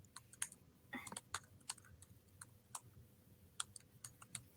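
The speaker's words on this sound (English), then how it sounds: "Sounds of typing" Quiet, irregular typing on a computer keyboard, with sharp clicks in short bursts and pauses, fairly close and with no voices.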